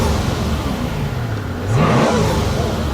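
Mercedes SL600 twin-turbo V12 revving loudly up close, a steady deep engine roar that climbs and swells into a sharp rev near the middle before settling back to a strong idle-like drone.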